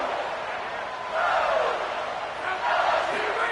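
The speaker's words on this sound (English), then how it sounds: "for an entire game, they are on their feet, yelling, screaming" A large stadium crowd at a football game, on its feet yelling and screaming, forms a loud, sustained roar that swells in two surges, with faint commentary voices underneath.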